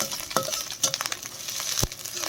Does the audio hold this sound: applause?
no